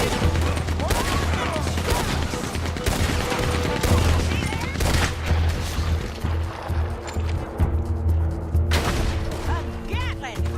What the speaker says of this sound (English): A Gatling! That's the gun you fight an army with!